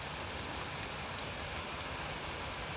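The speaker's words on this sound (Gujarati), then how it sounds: "ધીમી ધારে વરસાદ ચાલુ થઈ ગયો પાછો" Light rain keeps falling in a village near Botad, an unbroken soft wash of noise that stays level throughout, with no voices.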